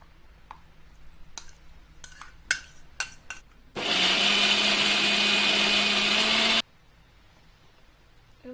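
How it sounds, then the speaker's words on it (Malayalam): A mixer grinder blends cooled onion and tomato with ground kadai masala in a steady, loud whir for about three seconds, preceded by a few sharp clicks and taps of the jar and lid, then stops abruptly. "ചൂടാറിയ സവാള, ടൊമാറ്റോ മിക്സ് നമുക്ക് ഈ കടായി മസാല പൊടിച്ച മിക്സിയിലേക്ക് തന്നെ ഇട്ട്"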